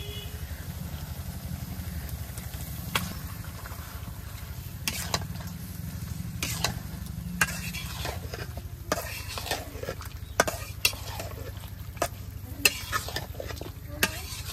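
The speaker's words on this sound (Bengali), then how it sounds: "আর লবণ মশলাটারে খুব ভালোভাবে এখন কষিয়ে নিব" Spice paste with coriander powder, salt and meat being sautéed in a pan, a steady close sizzle running throughout with sharp scraping clicks from a spatula stirring at irregular intervals.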